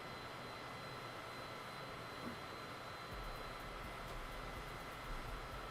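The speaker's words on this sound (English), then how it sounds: "In this nice little private jet" Steady broadband roar of a private jet engine in flight inside a flight simulator, cruising between mountains on a Lukla to Paro route; continuous and even, with a low rumble thickening partway through and no talk.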